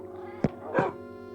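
A Minecraft cat on the Xbox 360 edition gives two short meows, the second longer and more drawn out, over a steady game music background with no talking.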